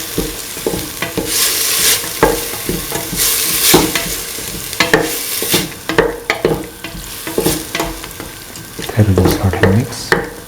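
Mint, onion and shallots sautéing in a pan for a cottage cheese coconut milk stew, with steady sizzling and repeated scraping stir strokes, fairly close and loud, a spoon clattering toward the end.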